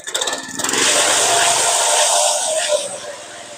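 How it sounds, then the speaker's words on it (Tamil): A power trowel's engine roars steadily at a constant speed, with a harsh, broadband mechanical rattle that eases slightly toward the end. "இன்ஜின் நார்மல் ஸ்பீடில் ரன் ஆகும்."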